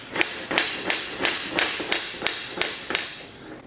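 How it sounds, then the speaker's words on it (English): Nine sharp metallic taps from a small hammer during metal fabrication, in a steady, even rhythm, each with a short ringing ping, close and clear with no talking. "Little hammer will do the job for the moment."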